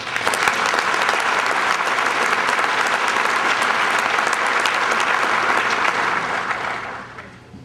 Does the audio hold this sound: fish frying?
no